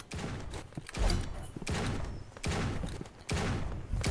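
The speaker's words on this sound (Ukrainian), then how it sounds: "Хто так стріляє по мені точно?" Gunfire from the Roblox Rivals video game, a few loud bursts of shots or thumping impacts about once a second, sitting over a busy game soundscape.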